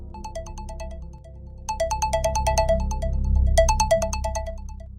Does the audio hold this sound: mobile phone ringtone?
yes